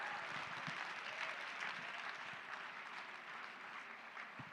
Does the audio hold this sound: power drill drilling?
no